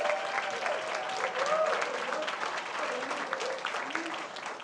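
An audience at a school district governing board meeting applauds an administrator-of-the-year honoree with sustained, dense clapping and scattered cheers and voices throughout.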